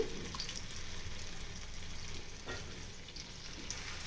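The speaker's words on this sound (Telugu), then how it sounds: "ఈ బ్యాటర్లో పొటాటోని ఇలా డిప్ చేసుకొని ఈ ఆయిల్లో వేసుకుందాం." Battered potato pieces fry in hot oil with a steady, close crackling sizzle that stays even and moderately quiet throughout.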